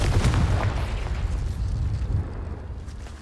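A deep, rumbling magical blast from a Confringo fire spell in Hogwarts Legacy bursts loudly at once and then fades through a sustained low roar over a few seconds.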